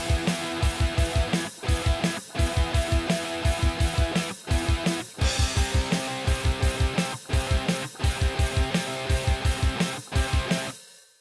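Electric guitar chugs through a song with rhythmic palm-muted low notes in steady repeating bursts under sustained chords, loud and close, no voices.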